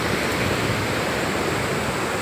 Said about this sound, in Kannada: ಇಲ್ಲೊಂದು ಕಡೆ ನೀರು ಬರ್ತಾ ಇದೆ